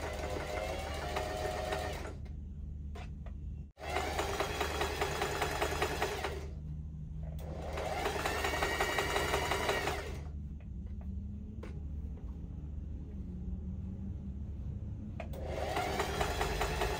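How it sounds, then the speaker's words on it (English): Sewing machine stitching six layers of gathered ruffle for a detachable sleeve, running in steady bursts of about three seconds with brief pauses and a sharp knock between runs. "Then I proceeded to sewing the ruffle that I already gathered all around it."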